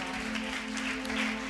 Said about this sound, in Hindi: आइए ताली बजाएं जोरदार